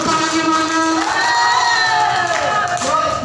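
Audience at a cheerful therapy session in Pamulang cheering and clapping, a steady loud crowd roar with shouts and whoops rising over it throughout.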